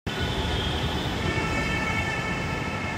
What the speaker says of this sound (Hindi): हाँ देखो मैं मेट्रो आ रही है, घर जाएंगा।